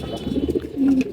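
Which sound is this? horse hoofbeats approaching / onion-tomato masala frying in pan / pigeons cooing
pigeons cooing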